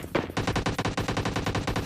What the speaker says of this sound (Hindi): अब तो सुन गया होगा ना, वहां से एसकेएस और एकेएम वगैरह चल रही थी